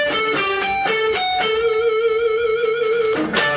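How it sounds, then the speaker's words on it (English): An electric guitar plays a song's intro riff at normal speed, a run of quick, evenly spaced picked notes ringing into one another, bright and close, with no talking. "if I play that at normal speed, it sounds like this"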